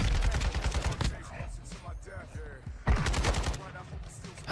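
Dense bursts of rapid gunfire from the video game Call of Duty: Warzone, loud and close, with a short lull in the middle before another heavy volley.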